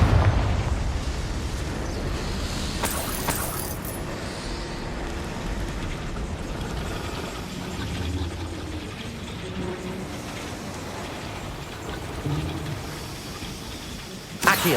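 The Confringo spell explosion in the video game Hogwarts Legacy: a loud, sustained blast-like roar with rumbling texture, sharper bursts near the start and at the very end.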